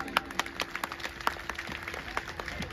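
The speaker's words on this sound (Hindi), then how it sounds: "आपके लिए जोरदार ताली होनी चाहिए" Scattered applause from a gathering of Gayatri devotional group members at a spiritual talk, with sparse, irregular claps heard faint and somewhat distant.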